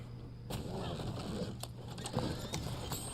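Horse hooves clip-clop in a quick, uneven rhythm over a steady low hum of Red Dead Online game audio, with a few sharper impacts mixed in.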